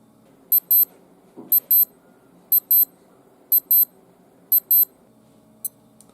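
Alarm of a Casio digital wristwatch, a Casio AQ-series model: close, crisp electronic beeps in repeating paired bursts roughly once a second, five cycles followed by a single faint beep, with no talk.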